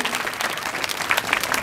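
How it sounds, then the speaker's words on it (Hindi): Crowd applause at a school ceremony honouring students from nursery to class 11 for their results, a dense, lively clapping that holds steady throughout, fairly close and moderately loud. "सभी एक बार जोरदार ताली बजा करके प्रतिभाओं का उत्साहवर्धन करें"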